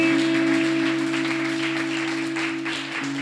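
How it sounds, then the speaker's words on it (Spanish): A church congregation applauding during a Spanish-language worship service, a dense wash of clapping over sustained held music tones, fairly loud and steady before easing slightly at the end. "Dale fuerte ese aplauso al"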